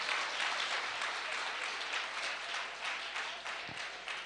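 Steady applause from a church congregation, many hands clapping together in a dense, even wash that holds for several seconds.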